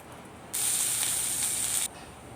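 A sudden burst of loud, steady sizzling hiss lasts just over a second, then cuts off, leaving quiet background, as tempering spices with asafoetida sizzle in oil for a drumstick thuvaiyal.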